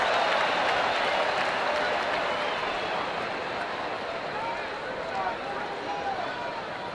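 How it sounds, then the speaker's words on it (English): Baseball crowd at Fenway Park letting out a mock cheer during a Rangers game, a broad wash of clapping and crowd noise that swells at first and then settles into a lower, steady roar. "a mock cheer going up here at Fenway"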